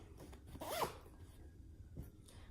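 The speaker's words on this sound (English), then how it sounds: "Plus the zipper on the back is just a little bit smaller." A zipper on the back of a Vera Bradley bowler bag in Happy Snails print, drawn in one quick close pull with a short rasping burst, then quiet handling rustle and a faint second rub.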